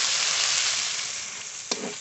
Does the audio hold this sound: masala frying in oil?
yes